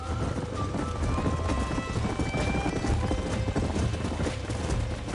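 Horses gallop through Red Dead Redemption, their hoofbeats a rapid, continuous clip-clop close by, with a neigh or whinny breaking through the steady drumming.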